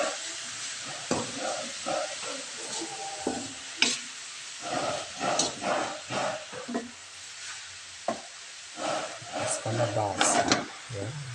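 Vegetables with coconut milk, squash and jackfruit are stirred in a pan with soft scraping and sizzling, while a person talks intermittently over the cooking.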